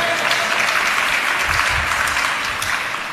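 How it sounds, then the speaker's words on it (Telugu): A church congregation claps together in praise during a sermon, a dense, steady wash of applause from many hands that holds evenly for a few seconds and eases slightly at the end. "నాతో అంగీకరించిన వారు చప్పట్లు కొట్టి దేవుని స్తుతించండి"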